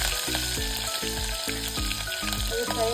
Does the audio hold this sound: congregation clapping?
no